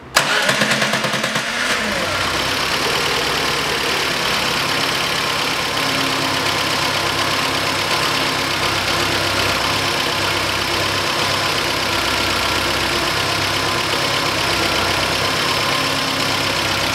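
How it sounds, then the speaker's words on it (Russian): A car engine, idling with occasional shudders, cranks and catches, then settles into a steady, loud idle that runs on evenly with a low rumble and no talking. "Он и работает более-менее устойчиво, двигатель его нет-нет протряхивает."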